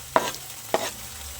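Chopped tomatoes tossed into softened onions frying in a pan for dhaba-style spinach bhaji, with two sharp stirring scrapes over a low background sizzle, close by.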